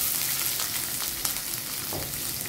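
Cumin seeds and a single dried red chilli fry in hot oil, giving a dense, continuous close sizzle and crackle with small pops.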